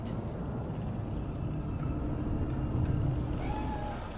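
A cat meows a few times amid steady ambient city hum in the Cyberpunk 2077 video game, the calls soft and set back in the mix.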